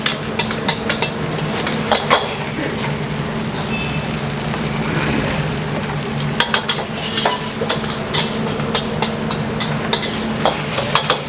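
Nasi goreng kemangi fried in a pan, a steady sizzle of frying rice punctuated by repeated scraping and clanking strikes of a spatula as it is stirred, close and busy, with no voices.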